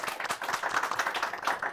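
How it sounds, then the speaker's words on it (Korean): An audience at a book forum applauds an author being introduced on stage, a steady patter of many hands clapping at moderate volume from start to end. "박수 부탁드리겠습니다."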